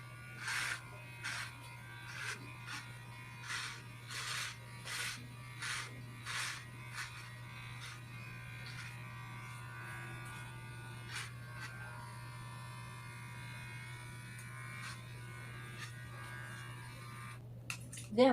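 Bimirth electric kids hair clippers cutting a child's hair at home, a steady close motor hum with a rhythmic series of brief louder buzzing strokes early on that later fade into a continuous drone.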